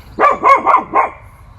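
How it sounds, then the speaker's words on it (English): A dog barks four times in a quick, close burst, then falls silent. "Barking at these birds out here."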